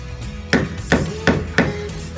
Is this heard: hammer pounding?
yes